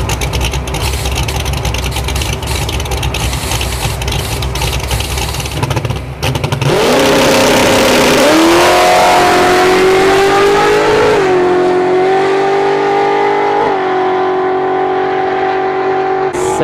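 Lime green Foxbody drag car with nitrous launching and accelerating down a drag strip, a loud raw engine roar that climbs in pitch through several gear shifts, heard near and without talk.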